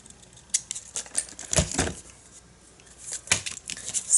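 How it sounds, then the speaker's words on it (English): Scissors cutting a section from a junk journal page, a close run of crisp snips and paper crackles in uneven bursts, quiet between cuts, with no talking. "Just going to cut this section in here."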